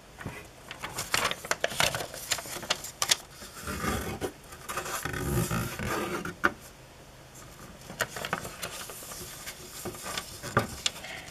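A square sheet of origami paper is folded diagonally in half both ways, giving close, dry crinkles and scratchy rubbing of paper, with bursts of creasing and sliding that rise and fall over several seconds, heard alone.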